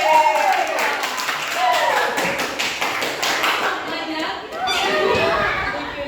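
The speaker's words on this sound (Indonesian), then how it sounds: "Oke, tepuk tangan dulu untuk belajar." Students in an Indonesian classroom clapping together, a loud ragged burst of hand claps up close, mixed with voices chattering and calling out in the room throughout.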